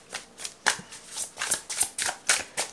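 Tarot cards being shuffled by hand, a quick run of crisp riffling flicks and slides at close range, rhythmic and fairly soft.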